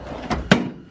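A tool drawer in a shop sliding open, a short close rumble followed by a sharp knock as it stops, lasting under a second.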